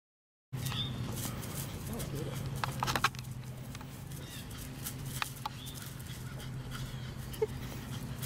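Dog at a park tennis court, heard in brief whimpers and panting under steady outdoor wind or hum noise, with a few sharp knocks and some talk.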